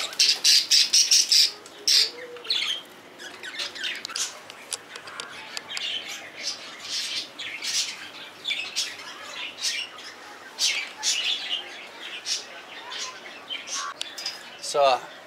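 Birds squawking and chirping in a crowded Indian slum neighbourhood, repeated harsh calls of varying loudness close by, with some voices and background activity mixed in.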